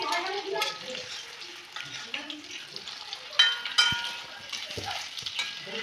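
Rice flour pakoras fry in hot oil in an iron kadai, giving a soft, steady sizzle with occasional light clinks of a utensil stirring.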